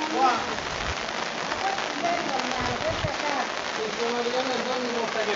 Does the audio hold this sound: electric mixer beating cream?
no